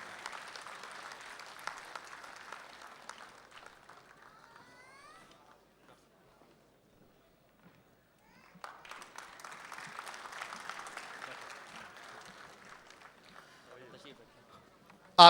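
Audience applause at a mushaira poetry gathering in Dubai rises in two long bursts of dense clapping, broken by a quiet stretch in the middle where a few voices can be heard.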